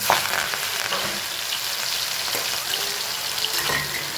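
Cumin, green chillies and lemon fry in hot oil with a loud, steady sizzle and crackle. Small pops and stirring sounds come through close up, with no voices.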